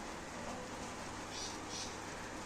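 Steady soft rain falls outdoors in Kashmir, a faint, even hiss with no pauses and no talk over it.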